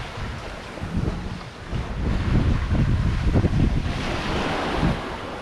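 Wind and breaking waves rush steadily around a sailboat running downwind on day three of a passage in 10 to 15 knots of apparent wind, with continuous surf wash and wind buffeting on the microphone and no talking.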